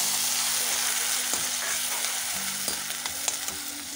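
Ground onion paste fries in refined oil for chicken korma, giving a loud, continuous sizzle close by with a few scraping stirs and no talk.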